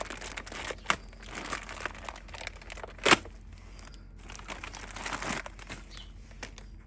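New car part packaging for a 2007 Ford Territory is torn open at close range. It makes crinkling and rustling plastic and paper sounds, with one sharp tearing burst midway.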